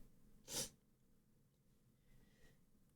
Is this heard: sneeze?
yes